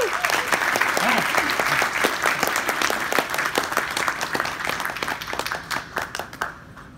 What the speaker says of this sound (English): Let us all give a thundering applause for Encik Johan Irwan